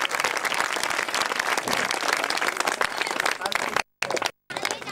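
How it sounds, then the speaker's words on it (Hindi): Dense crowd applause welcoming guests at a Hanuman Ji jagran devotional gathering, loud continuous clapping with two brief cuts near the end. "एक बार जो तालियों से स्वागत होना चाहिए बाबा के दरबार में"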